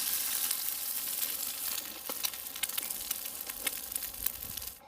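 Steak and eggs sizzling in a too-hot skillet on a FireBox grill outdoors, a loud crackling hiss with sharp pops spattering close by, no talk.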